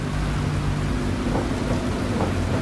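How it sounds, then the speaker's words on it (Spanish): Heavy, dense torrential rain in the video game Dirt Rally 2.0 at Silverstone pours down in a continuous roar with a deep rumbling undertone, loud and unbroken throughout. "pues encima lluvia torrencial"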